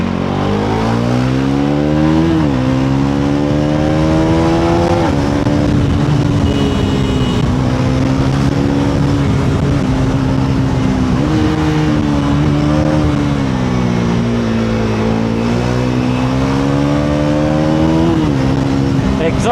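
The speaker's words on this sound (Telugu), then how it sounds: "ఎగ్జాస్ట్ అయితే క్రేజీ ఉంది." A 2026 Bajaj NS400Z motorcycle's exhaust booms up and down through the gears while riding, loud and close, with rising revs broken by shifts and rolling throttle changes, and a rider's voice is faintly present underneath.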